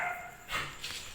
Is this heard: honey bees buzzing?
no